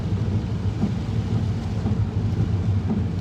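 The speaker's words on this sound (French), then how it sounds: "Qu'est-ce qu'il pleut, mon Dieu, aujourd'hui?" Heavy rain with low rumbling thunder, a dense continuous roar of downpour with deep rolling undertones filling the whole stretch without any voices.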